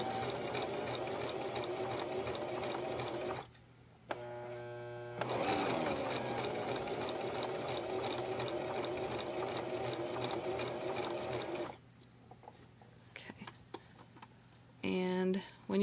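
A sewing machine stitches and backstitches a baby hat, running in long steady bursts with brief pauses between, and a voice talks in the gaps.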